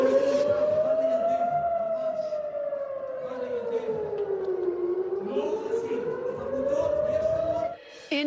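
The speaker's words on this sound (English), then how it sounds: "sirens forced a crowd to scatter from what has been dubbed Hostages Square" Air raid sirens over Hostages Square in Tel Aviv, a loud civil defense wail that slowly rises and falls in pitch and holds for several seconds before cutting off abruptly.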